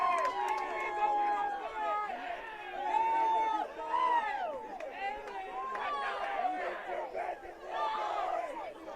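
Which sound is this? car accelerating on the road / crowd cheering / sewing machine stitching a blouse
crowd cheering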